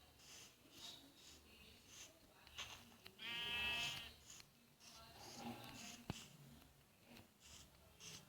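A sheep bleats in a video game with one clear, wavering bleat near the middle, faint and low in level, amid quiet game sounds and soft background noise.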